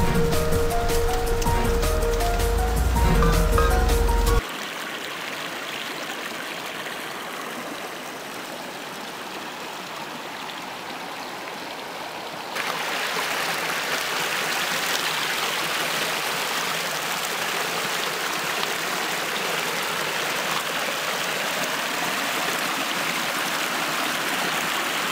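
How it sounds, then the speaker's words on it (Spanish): The Corona river in Güemez, Tamaulipas, flows with a continuous broad rushing wash, loud and steady throughout with no talking. "aquí vamos aquí en el río Corona"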